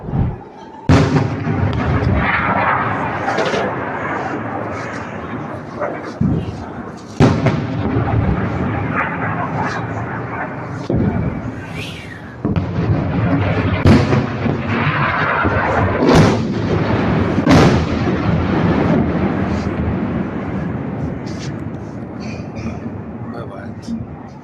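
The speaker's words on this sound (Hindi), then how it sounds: "ऐसे तमाम जगहों पर इजराइल के एक साथ मिसाइलें जाकर दंदना कर गिरी हैं" Missile impacts and explosions strike Nahariya in northern Israel, heard as repeated loud booms and sharp blasts over a continuous roar, with people talking and shouting throughout.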